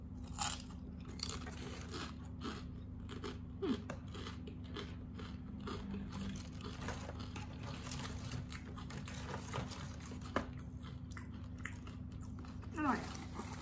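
Close, crisp crunching bites and chewing of fried mushroom wontons at a noodle restaurant, coming in irregular bursts over a steady background hum with faint voices.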